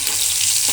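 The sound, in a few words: soybean chunks frying in oil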